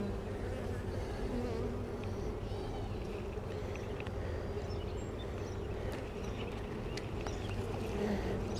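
Honeybees buzz steadily and up close during a hive inspection on a sunny day, a dense continuous drone of many wings with no talk over it.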